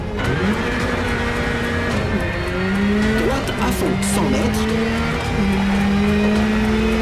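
A Porsche rally car in the video game WRC 10 drives a dirt stage, its engine droning loud and steady with rising and falling revs as it shifts gears, accompanied by faint gravel and tyre noise.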